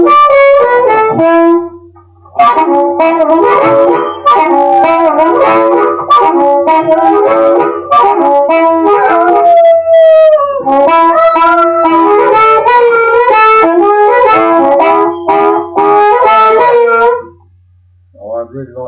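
A harmonica plays through an AKG D130 microphone into a small Harley Benton amplifier, with loud, wailing bent notes in long phrases broken by a few short pauses.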